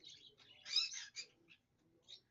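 A pet bird chirps in short, bright bursts indoors, a cluster of high tweets in the middle and a lone chirp near the end, fairly soft.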